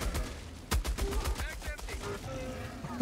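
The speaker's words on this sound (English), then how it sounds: "I just hear that heavy machine gun" Heavy machine gun fire in the Helldivers 2 video game comes as a rapid string of hard shots, with a loud burst near the middle, under a player's voice talking over the action.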